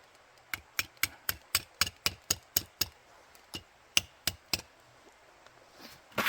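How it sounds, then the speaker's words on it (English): A hammer drives a metal sap spout into the tap hole of a maple tree, a run of about ten sharp, evenly spaced close knocks, then a few slower, scattered taps. "Hammer in the spout."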